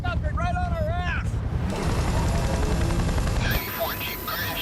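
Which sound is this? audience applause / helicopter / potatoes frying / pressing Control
helicopter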